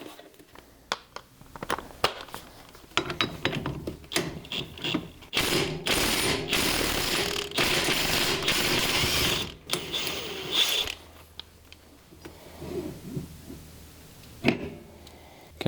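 A ratchet wrench loosens a bolt on a golf cart brake, its ratcheting clicks and mechanical rattles coming in bursts, loudest in a sustained stretch mid-way, then tapering to scattered knocks and faint handling noises.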